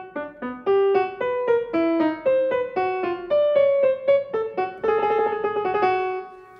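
Piano plays the theme of fugue 24 from Bach's Well-Tempered Clavier as a steady single line of clear, evenly paced notes winding downward and upward, rich and close, with chords thickening toward the end.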